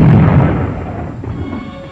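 A single deep, heavy boom of an airplane crashing that rumbles and slowly fades away over a couple of seconds, with no voices.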